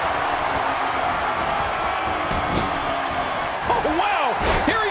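A wrestling arena crowd in the WWE 2K17 video game roars in a steady, dense wash of cheering, while a commentator talks over it.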